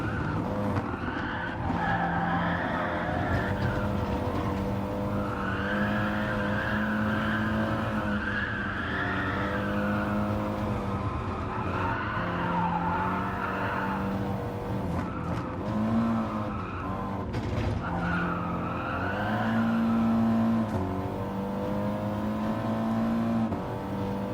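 Race cars on track in Gran Turismo, with Group 3 and Group 4 cars, a sustained loud engine drone with shifting revs and repeated tire squeals and skids, with no talk.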